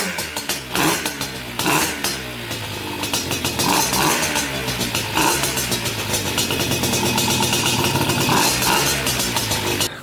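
A Gilera 180 motorcycle engine fires up and keeps running steadily, a close, loud, continuous mechanical drone with rough pulsing throughout.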